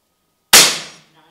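An FX Crown air rifle firing a single hybrid slug at power setting 23 into a pellet trap: one loud, sharp crack with a quick ringing decay, then silence.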